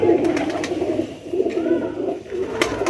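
A Faqeer Gull pigeon coos repeatedly in low, rolling phrases, close and clear, with a few light clicks and rustles around it.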